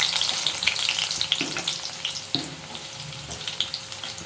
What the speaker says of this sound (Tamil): இப்போ எண்ணெய் சூடாயிடுச்சு ஒரு மீடியம் சைஸ் வெங்காயம் பொடி பொடி கட் பண்ணி வச்சுருக்கேன் அதை சேர்த்துக்கலாம்